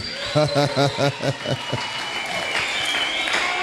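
A church congregation claps their hands during a live sermon, a steady broadband patter of applause that rises after a speaking voice at the start and carries on through the rest.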